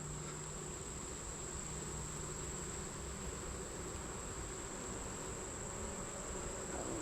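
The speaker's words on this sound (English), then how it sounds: "just loaded with bees" Honey bees buzz in a steady, dense drone during an August hive inspection, a continuous close hum with no voices over it.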